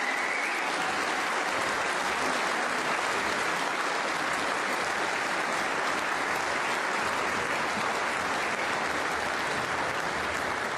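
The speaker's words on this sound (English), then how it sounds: "may we have another round of applause for an extraordinary night of drama in Essex" An audience at a snooker final in Essex claps throughout, a dense, steady wash of applause that holds at full loudness from start to finish with no voices standing out.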